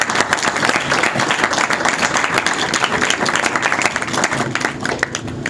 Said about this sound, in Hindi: फरूक के लिए तालियां ज़ोरदार